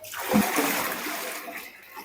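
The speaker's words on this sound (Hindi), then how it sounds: "साथ इसमें हम पानी डाल देंगे" Water splashes loudly and continuously as it is poured into a large pot of lentils and chicken for a 20 kg traditional Pakistani degi haleem, the rush easing off after a couple of seconds.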